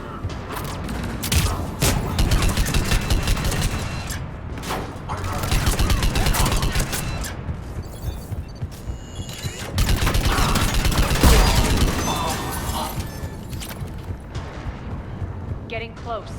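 Heavy cannon fire and explosions in the sci-fi video game Mass Effect 3, dense rumbling blasts and booming volleys that swell in waves, with game voices talking over the din.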